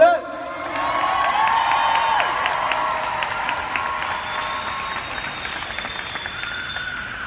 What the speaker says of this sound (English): Please give a round of applause to Becky Brossett.